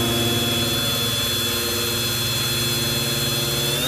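A drill fitted with a Harbor Freight countersink bit cuts into plywood, making a loud, continuous motor whine with a steady buzzing vibration that holds constant for the whole stretch.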